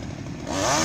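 A chainsaw cutting branches hanging over power lines in Cambodia, heard at a distance, its engine rising from a rough idle into a louder, steadier whine within a second.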